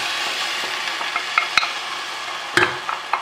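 Whole tomatoes are added to frying onions in a pan and stirred, for a vegetarian moussaka. A soft sizzle runs underneath while sharp utensil knocks and scraping strokes break through at irregular moments.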